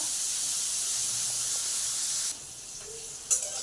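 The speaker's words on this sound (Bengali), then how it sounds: "আমি কাঁকরোলটা ভাজছি। কাঁকরোলটা একটু ভাজা ভাজা করে নেবো।" Spiny gourd (kakrol) frying in a pan gives a steady, bright hissing sizzle that drops suddenly to a quieter simmer partway through, then a single sharp clink, heard close without talk.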